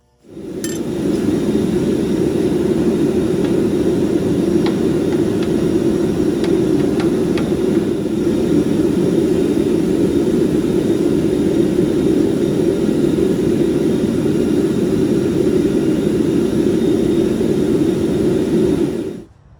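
A gas forge roars steadily and loudly while a knife is heat treated inside, a constant low rushing burn with a few faint metallic clinks early on before the roar cuts off.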